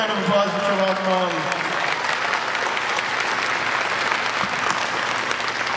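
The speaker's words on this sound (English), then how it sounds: "Huge round of applause for Chewbacca Mom." Fan convention audience applauding at a Q&A panel, a loud dense burst of clapping from a large crowd that holds steady, with a voice briefly over the start.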